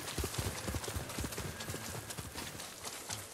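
Steady clip-clop of a samurai horse's hooves trotting at a brisk rhythm in the video game Ghost of Tsushima, close and fairly loud, with a faint snort in the background.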